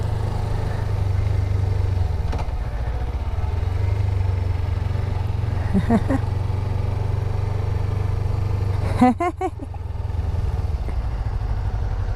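A Suzuki SV650 motorcycle engine holds a steady, low idle-like drone close by, with a couple of brief clattering bursts over it and no talk.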